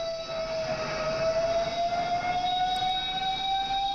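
An ambulance siren wails steadily on a single sustained tone, loud and fairly close, over a street backdrop during a chief minister's motorcade.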